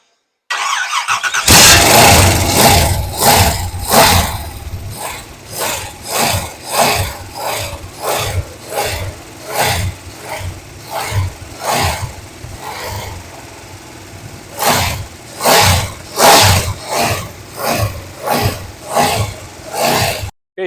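A Pontiac 400 V8 with a Summit 2802 camshaft cranks and fires for its first start, then roars loudly and unevenly, its revs swelling and dropping in a repeated rhythm close by.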